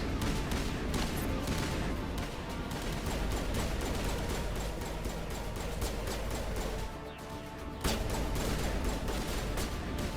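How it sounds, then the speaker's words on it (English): Gunfire in Mass Effect during a firefight: rapid, dense bursts of shots crackling continuously, with a brief lull before the shooting resumes. "They're still firing away like crazy."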